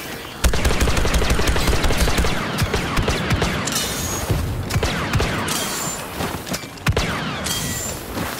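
Rapid blaster gunfire in Star Wars Battlefront II, dense bursts of sharp energy shots firing almost continuously over about eight seconds, loud and close with mechanical clatter and no talk.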